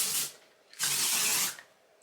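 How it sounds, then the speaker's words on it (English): Hair spray hisses onto freshly curled short hair in two bursts, a short spray followed after a pause by a longer one, close and fairly loud with no talking. "and then I'm just going to spray"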